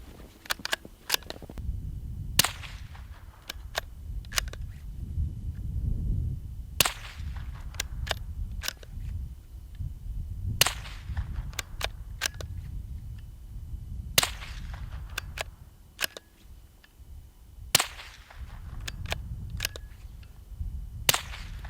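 A rifle fitted with an AAC carbon fiber suppressor fires supersonic ammunition, producing a series of sharp, cracking shots at irregular intervals, some in quick pairs, over low rumbling background noise outdoors.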